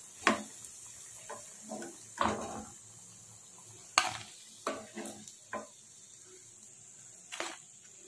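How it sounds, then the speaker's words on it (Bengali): Dudh Gokul pitha frying in a pan, a faint steady sizzle broken by several sharp clattering knocks of a utensil against the pan. "এভাবে সব পিঠাগুলো ভেজে নিচ্ছি।"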